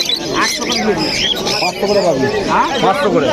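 Lovebirds at a busy pet market chatter and chirp in a dense, continuous twittering layer close by, mixed with other birds and the general din, while a person talks over them.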